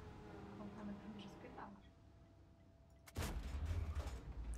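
In a World of Tanks game, faint murmuring voices give way to a sudden, loud tank cannon blast whose rumbling boom lingers and rolls on to the end.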